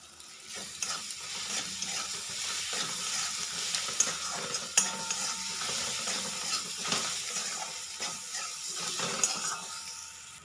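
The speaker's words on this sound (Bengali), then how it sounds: "এবার সব মশলাগুলোকে পেঁয়াজের সাথে খুব ভালো করে ভেজে নেব।" Spices fry with onions in a pan, giving a steady soft sizzle with scraping stir strokes and occasional light clinks, close up and without talk.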